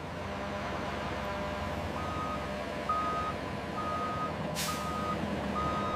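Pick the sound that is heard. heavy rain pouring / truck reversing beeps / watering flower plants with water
truck reversing beeps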